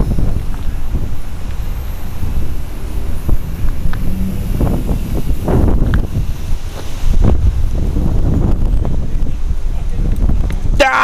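Strong wind on a windy outdoor day buffets the microphone in a steady, loud low roar with gusty surges throughout, with faint mechanical hum from a small toy RC helicopter flying nearby.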